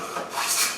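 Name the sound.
Woodline ebony hand plane shaving wood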